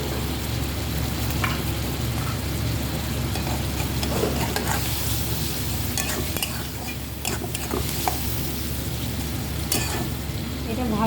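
Prawns sizzle in hot oil with turmeric and chili powder while being stirred in a pan, a dense continuous frying hiss broken by occasional scraping clicks of the spoon, close and steady throughout.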